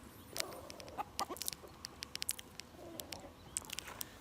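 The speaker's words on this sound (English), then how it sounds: "They're not your everyday chicken. They're special type of chicken." Rare chickens with thick, furry-feathered feet cluck inside a cage at a San Diego petting zoo, giving scattered short calls and soft clucks over a faint, quiet background.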